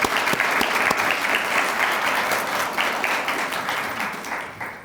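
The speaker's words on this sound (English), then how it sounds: "would you just put your hands together and let's applaud those women today" An audience at a Women's History Month employee recognition event in Cleveland claps in loud, sustained applause that tapers slightly toward the end.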